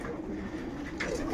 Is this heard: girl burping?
no